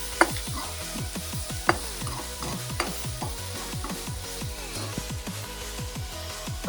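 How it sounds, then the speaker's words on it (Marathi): Mustard seeds, cumin, green chilli and ginger-garlic paste are stirred in a hot pan for matar kachori filling, with a steady sizzle and repeated scraping strokes of a spoon throughout, close and continuous. "अर्धा चम्मच मोहरी, 1 चम्मच जिरे, हिरवी मिरची आणि आलं लसूण पेस्ट. आता हे 5 मिनिटे मिक्स करूया."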